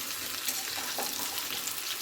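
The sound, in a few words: hilsa fish frying lightly in oil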